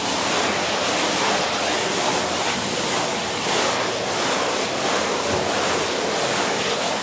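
A float board rubs clay plaster on a wall in a steady, loud scraping hiss, with soft repeated sweeping strokes that last throughout and no talking.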